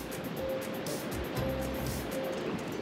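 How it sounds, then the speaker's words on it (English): Wind gusting across an open ocean beach with surf behind it, a steady blustery roar with faint tonal hums, close and continuous, without voices. "I don't know how well you can hear me with the wind blowing."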